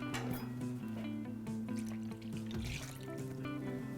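Milk poured into a sweet potato casserole mix gives a soft, quiet trickle and splash, heard faintly beneath a steady electric mixer hum that carries through the whole short stretch.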